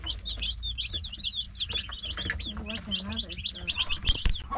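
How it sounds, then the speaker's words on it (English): Baby chicks peep steadily and densely in a chick house, their high chirps overlapping in a continuous close chorus, with faint low rustling and a few clucking sounds underneath. "so we got the chicks all set up in the chick house."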